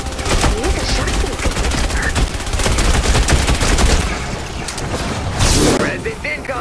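Shotgun fire in the Fortnite holiday mode Protect the Presents, heavy booming blasts packed closely together across a dense, loud game mix, with someone talking over the shooting.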